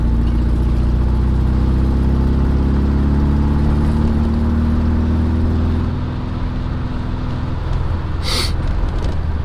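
A car engine drones loud and close with a steady hum as it drives past around speed bumps, then the tone eases and fades, with a brief sharp noise near the end.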